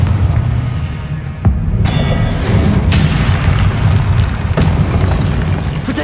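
Confringo explosive spell blasting in the video game Hogwarts Legacy, a loud rumbling boom with sharp cracks layered over a dense, sustained roar of game effects.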